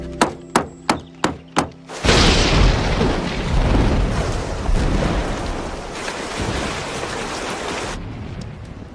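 Five sharp booming thunder cracks in quick succession, then a sudden roar of heavy rain pouring steadily before it abruptly cuts off.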